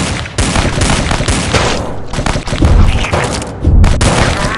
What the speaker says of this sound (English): That was an awesome barrel shot.